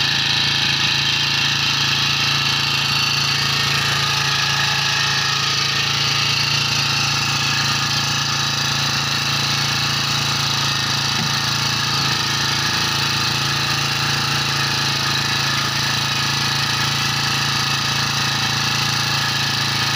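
A small engine on a 20-litre pesticide spray pump, used for spraying banana crops, runs steadily and loudly without pause, a constant motor drone nearby.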